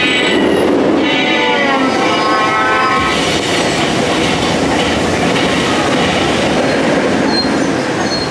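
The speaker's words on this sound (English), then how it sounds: "the monorail, the horn, and the Nemesis train going past with its iconic roar" The Nemesis roller coaster train at Alton Towers roars past close by with rumbling wheels and squealing rails, while a monorail horn sounds several tones early on; no voices.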